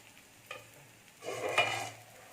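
Garlic dosa fries in sesame oil on a pan, a quiet close sizzle with a brief scrape or stir, then a swelling burst of crackling oil that fades back down.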